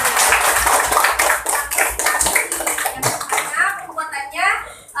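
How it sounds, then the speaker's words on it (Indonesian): Schoolchildren in a classroom clap in a fast, loud burst of applause that fades near the end, while a few young voices are heard over it. "Ya, benar. Tepuk tangan."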